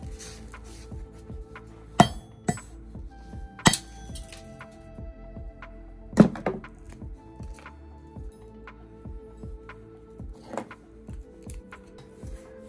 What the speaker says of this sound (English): So that's all I do is I just smash it. Smash it with a hammer.